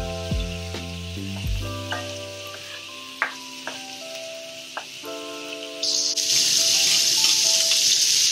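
Fish curry with whisked curd cooking on a slow flame, a close sizzle and bubbling with a few sharp clinks, growing into a louder, steady frying hiss in the last seconds, with no talk.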